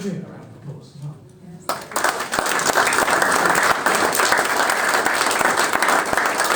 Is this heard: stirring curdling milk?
no